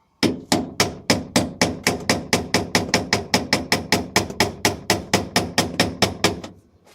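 A hammer taps a bolt through a rudder pedal hole in a fast, even run of about thirty sharp metallic knocks. The knocks come close together and loud, then stop abruptly.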